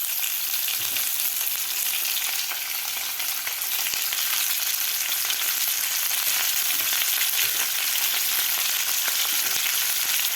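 Masala-stuffed bitter gourds fry in hot oil with cumin seeds. The sizzle is a steady, dense hiss that stays even and close throughout, with faint stirring clicks.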